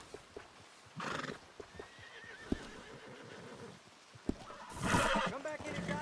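In the video game Red Dead Redemption 2, a horse gives two loud whinnies with clip-clop hoofbeats between them, and a voice talks quietly in the background.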